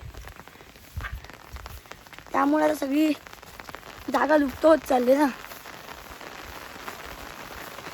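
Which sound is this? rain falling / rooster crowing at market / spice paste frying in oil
rain falling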